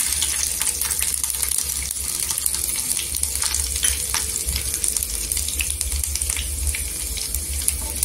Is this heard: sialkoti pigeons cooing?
no